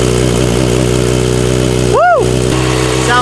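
A Kawasaki Ninja ZX-4RR fitted with a full titanium exhaust idles steadily after starting, a close, loud, even engine drone, with a brief whistling sweep partway through.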